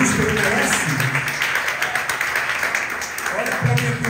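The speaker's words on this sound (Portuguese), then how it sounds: "Você pode aplaudir o Senhor em nome de Jesus, que Ele merece." A church congregation applauds in praise, steady broadband clapping from many hands filling the room while voices call out and sing over it.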